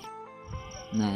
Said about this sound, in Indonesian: kalau jangkrik itu semakin besar itu semakin pelan suaranya